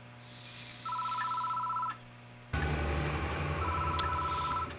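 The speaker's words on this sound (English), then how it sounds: "The phone is ringing." A telephone in the horror game Death Mark rings in two bursts of electronic trilling, the second over a louder rumbling ambient bed, with no one speaking.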